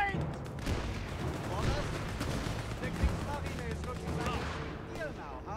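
Steady distant gunfire and artillery rumble in Company of Heroes 3, a continuous battle din of rifle and machine-gun shots under game voices.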